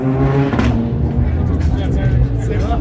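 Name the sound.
Fiat Punto rally car driving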